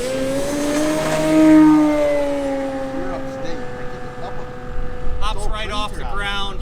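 An electric Sebart Extra SX 61-inch 6s RC aerobatic plane takes off, its motor whine rising and sweeping in pitch as it climbs and then fading with distance, while a voice talks over it.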